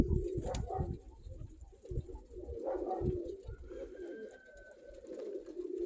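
A white-tailed domestic pigeon coos in soft low bursts near at hand, with faint wing flutters and small knocks and a thin whistle in the background, outdoors and quiet.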